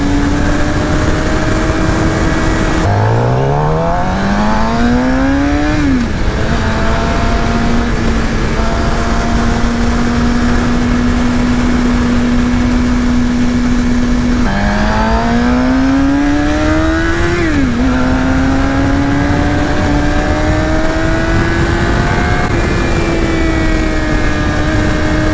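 Suzuki GSX-R750 2018 sport motorcycle engine under riding, loud and close, with a steady drone that rises in pitch through repeated revving and gear changes, holding constant speed between pulls, no talk.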